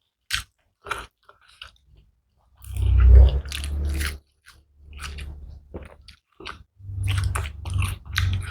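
Boiled, tender cow skin dipped in jaew chili sauce is chewed close to the mic, with loud crunchy, wet bites in two long bursts and small clicks between.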